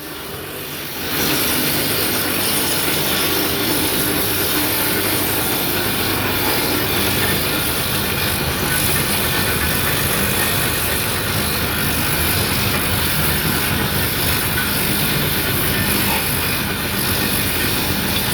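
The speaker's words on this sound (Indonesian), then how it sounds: "Ayo kita cek lagi untuk mesin peruncingnya." A bamboo skewer sharpening machine runs continuously with a loud, steady mechanical rattle and whir that starts abruptly and holds without pause.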